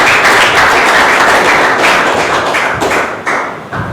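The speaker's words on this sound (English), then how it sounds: "So please welcome with a big round of applause" Loud, thick applause from the audience at a Toastmasters club meeting, a continuous wash of many hands clapping close by that eases off only slightly toward the end.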